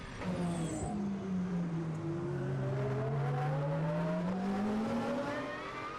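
Onboard a GT race car in a Blancpain Sprint Series qualifying race on the Baku street circuit, the engine drops in pitch while braking toward a hairpin, then climbs again as it accelerates out, loud and continuous.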